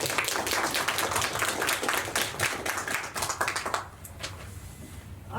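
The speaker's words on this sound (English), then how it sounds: "Let's give him another round of applause." An audience at a literary talk with writers breaks into dense applause, many hands clapping together for almost four seconds before the sound thins and fades to a quiet room.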